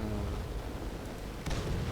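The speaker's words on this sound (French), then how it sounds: "Alors, on va faire exploser ça." Booms and rumbling blasts from a tank rally in World of Tanks, with a continuous low rumble and a sharper explosive hit about midway, loud and without talk.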